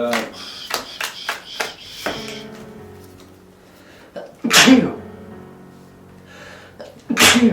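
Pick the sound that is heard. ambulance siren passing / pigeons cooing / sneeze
sneeze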